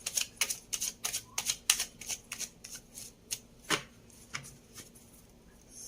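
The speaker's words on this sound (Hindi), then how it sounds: "let's shuffle the cards once again" A deck of tarot cards is shuffled up close, giving a quick run of crisp riffling snaps that slows into a few scattered flicks. It is heard alone in a quiet room.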